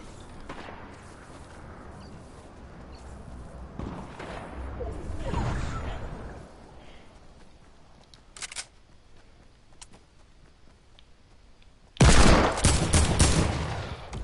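Gunfire in the Fortnite video game: a run of faint shots and rustling, one sharp crack near the middle, then a loud burst of rapid automatic fire at the end.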